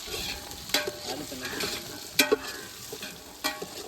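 Chicken curry base sautéing in oil, a soft steady sizzle with several sharp clinks of a spoon stirring against the pan, no voices.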